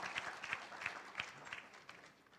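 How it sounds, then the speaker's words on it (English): A small audience at a centennial celebration claps for a speaker, the faint applause made of scattered distinct hand claps with a soft uneven rhythm that thins out toward the end. "Give him one more round of applause."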